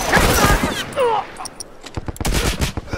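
Hunting rifle shots and other gunfire in a multiplayer match of The Last of Us Remastered, a loud burst early, then a scatter of sharp, fairly close reports, with brief talk mixed in.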